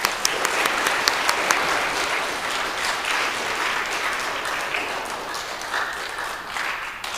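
Audience at a school spelling bee claps steadily for the spellers, a dense, sustained applause with a few sharper claps near the start, lasting throughout without talk.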